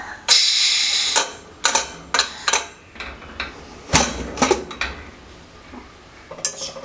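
Metal pressure cooker lid being handled and opened after cooking green gram, with a run of loud, close clanks, scrapes and clicks of metal on metal in irregular bursts, no talking.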